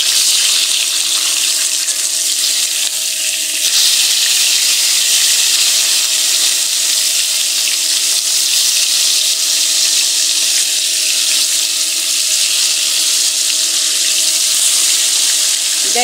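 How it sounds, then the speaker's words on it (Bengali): Pieces of mrigel fish sizzle and spit in hot oil in a frying pan as they are turned over, a loud, constant hiss that barely shifts in intensity throughout, with no talking. "এখন আমি মাছগুলোকে উল্টিয়ে দেব।"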